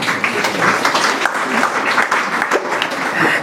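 Audience clapping at a religious discourse, a dense steady wash of many hands sustained without pause, loud and close throughout.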